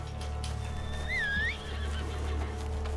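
A horse in the video game Red Dead Online lets out a single wavering whinny near the middle, over a steady low in-game ambience and hum, with faint hoof and background noises and no talking.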